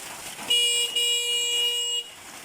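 A car horn wired together with a passing light sounds in two close, steady electronic blasts, with a short gap between them, over quiet background hiss.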